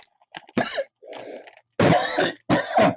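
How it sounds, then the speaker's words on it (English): A man coughs and clears his throat in a cluster of harsh, close bursts, several rough hacks separated by short gaps, loud and dry with nothing else around them. "Cough."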